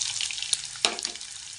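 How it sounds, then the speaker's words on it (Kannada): Onions going into hot oil for a mushroom sabzi, giving a brief bright hiss with a couple of sharper spatters, close by, with no talking. "ಎಣ್ಣೆ ಕಾಯಕ್ಕೆ ಇಟ್ಟಿದ್ದೀನಿ. ಇವಾಗ ಇದಕ್ಕೆ ನಾನು ಈರುಳ್ಳಿ ಹಾಕೋತಾ ಇದ್ದೀನಿ."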